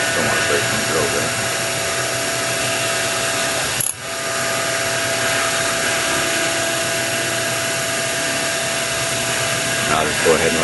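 A drill turns slowly at a very low feed rate, cutting a part for a quarter-scale ProStreet Beretta shifter. It makes a steady, close mechanical whir with a brief dip near the middle. No one talks.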